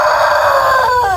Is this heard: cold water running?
no